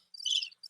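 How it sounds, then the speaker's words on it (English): Crickets chirp in a short, faint high trill, then a brief second burst, with no voices. "that's the crickets. It's the crickets"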